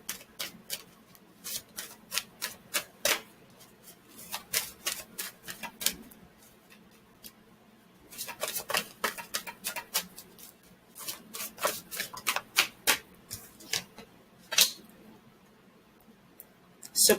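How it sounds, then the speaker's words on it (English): Spirit message cards being shuffled and drawn, heard as bursts of crisp papery flicks and rubbing clicks in rapid clusters, close and fairly quiet, with short pauses between runs and no talking. "Let's pull a couple of the spirit message cards."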